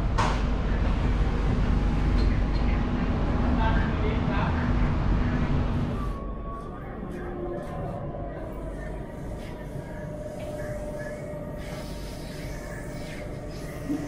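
A Bangkok MRT Blue Line metro train rumbles loudly along the track, then the roar drops to a steadier, quieter hum as it slows.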